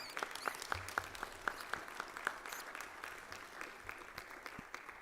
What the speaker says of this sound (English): could we all stand and give our parents and coaches a big round of applause?